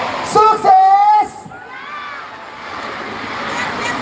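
A crowd at an outdoor evening event in Soppeng, 2024, cheers and whoops with loud shouts in the first second and a half, then drops to a lower, sustained murmur of voices.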